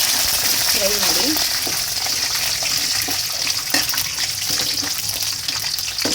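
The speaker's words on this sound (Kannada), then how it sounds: "ಮತ್ತು ಬೆಳ್ಳುಳ್ಳಿನ ಹಾಕ್ಕೊಳ್ಳಿ, ಫ್ರೈ ಮಾಡಿ." Garlic and ginger frying in hot oil for chicken chops, a loud, dense crackling sizzle throughout with a brief stirring clink, heard close up.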